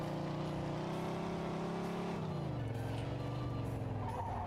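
A police car's engine drones steadily in the Mafia 2 video game, a continuous mid-loud motor hum whose pitch holds, then drops as the car eases off, with no talk over it.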